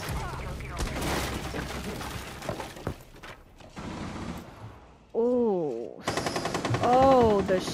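Gunfire in the video game Rainbow Six Siege: loud rapid automatic bursts and single shots crackling near, mixed with game effects and a rising whine, with a voice talking faintly in the mix.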